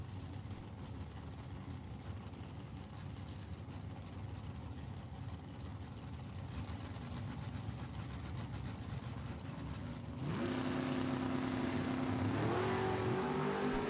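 Two drag racing cars, a Camaro Roadster and a 1969 Chevrolet Camaro, revving at the start line: a low engine drone builds, then sharp rising revs near the end, loud and close.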